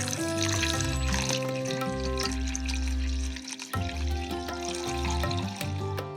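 Water pours and trickles into a bowl for soaking chicken in vinegar and salt, a steady splashing flow over several seconds with brief dips.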